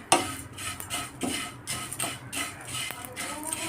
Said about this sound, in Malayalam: ഇനി അവിൽ നമുക്ക് വറുത്തെടുക്കാം